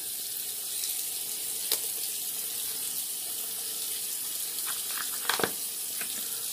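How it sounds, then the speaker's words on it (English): Tap water runs steadily from a bathroom sink while rinsing the face after a wet shave, a continuous close hiss with a few small splashes and clinks near the end. "I'm going to rinse off the face"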